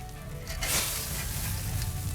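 Oysters on a charcoal grill sizzle and bubble close up, a steady crackling hiss that swells briefly partway through.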